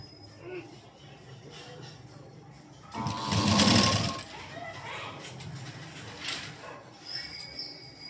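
A sewing machine runs in one short, steady burst while stitching piping onto a round neckline, a close motor whir over a quiet room.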